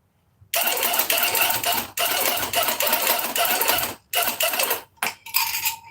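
A cordless tufting gun runs in loud, steady mechanical bursts, stopping briefly around the second mark and then cutting in and out in short spurts near the end.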